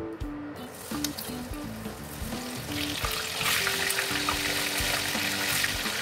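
Corn kernels frying in hot oil beneath a mesh cover, a steady loud crackling sizzle with scattered sharp pops throughout, no voices.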